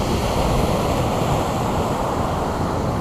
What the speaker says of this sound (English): Tips of the rods are blowing around because of the wind.